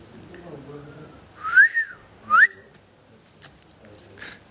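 Someone whistles a few short, bright, rising and swooping notes, loud and close, with faint voices murmuring before and a couple of softer whistle blips afterward.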